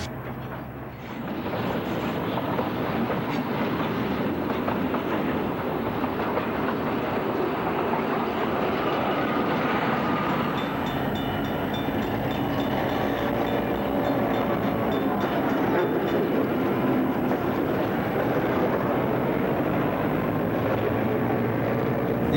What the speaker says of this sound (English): we catch a train with wood chip cars.